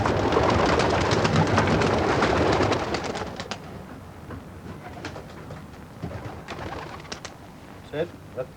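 Pigeons coo in a former iron-mining community, their soft throaty calls surfacing after a loud rushing, clattering stretch fades, with a few scattered chirps spaced out toward the end.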